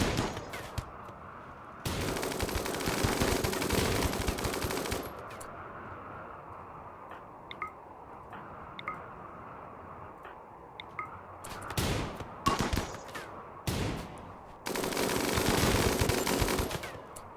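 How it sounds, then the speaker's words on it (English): Video game gunfire in RimWorld: loud rattling bursts of automatic fire alternate with quieter stretches of scattered single shots and ticking, heard alone without voices. "How much shooting you got?"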